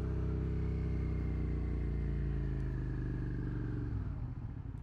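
A motorcycle engine drones steadily and loudly close by while riding, holding a low, even tone that starts to ease off near the end, with no voices heard.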